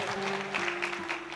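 Audience applause at a business seminar in Shimla, a dense wash of clapping spread evenly through the hall, with a sustained hum running beneath it throughout.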